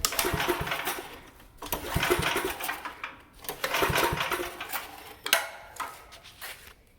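A 1966 Sears Suburban garden tractor engine runs roughly and unevenly nearby, sputtering and surging in uneven bursts with rattling, ticking mechanical noise.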